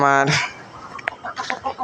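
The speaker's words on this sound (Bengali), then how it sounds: "আমার মুরগি বাচ্চা।" A hen gives a loud drawn-out squawk, then short clucks follow in an uneven rhythm, close to the microphone.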